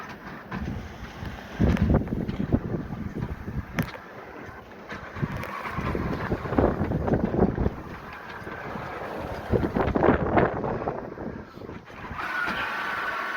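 Sailboat under way on choppy water in wind, with steady broadband wind rumble and water wash rising and falling in surges, close to the microphone and loud, with no talking.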